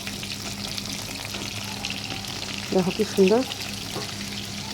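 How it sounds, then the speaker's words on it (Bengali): Pieces of katla fish fry in hot oil in a pan over a medium flame, giving a steady soft sizzle with brief clinks as they are lifted out, while someone speaks briefly over it. "মাছগুলি ভাজা হয়ে গেছে, দেখো।"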